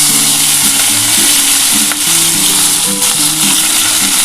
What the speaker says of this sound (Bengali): এই তেলের মধ্যে আমি নিম পাতাটা ভেজে নিচ্ছি।